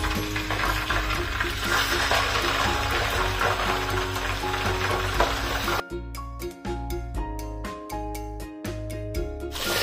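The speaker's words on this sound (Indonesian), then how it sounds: "Nah, minyaknya udah agak panas, sekarang aku akan masukin tahunya." Tofu frying in hot oil gives a steady, loud crackling sizzle that continues throughout, with sharp clicks and taps of utensils in the pan toward the end.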